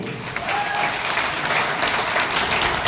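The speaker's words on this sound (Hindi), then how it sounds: "आप लोग अपने लिए एक शानदार ताली बजाएं दोस्तों" Audience at a business anniversary event breaking into loud, dense applause, a continuous wash of many hands clapping close and steady for the whole stretch.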